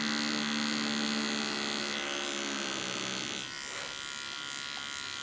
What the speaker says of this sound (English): Cleaning the contour with a small clipper.